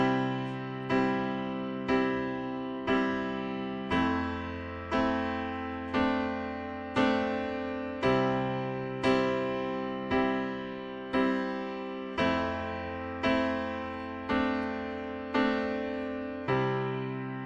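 A piano plays a simple three-chord progression, evenly repeated block chords struck about once a second with a low bass note under each, decaying between strikes, soft and alone.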